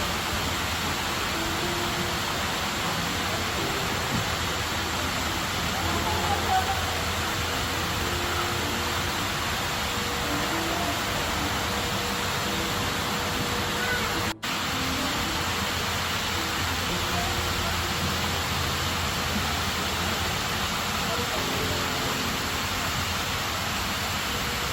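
Heha Waterfall in Bogor, a steady broadband rush of falling water filling the whole stretch without pause, close and even, with no voices over it.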